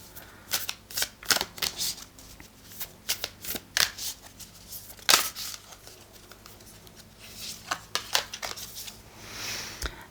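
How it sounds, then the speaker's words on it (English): Oracle cards being shuffled by hand during a tarot-style reading, a run of brisk papery riffles and flicks in uneven bursts, close and fairly quiet with no talking over it. "I'm going to pull a card from Work Your Light Oracle."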